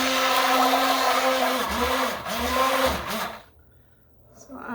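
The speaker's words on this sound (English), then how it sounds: "I'm going to blend just a little bit more because there's a few pieces that are still there." An electric blender whirs loudly and steadily as it mixes a mandarin orange gelatin salad, its motor pitch dipping and surging a few times before cutting off into near silence.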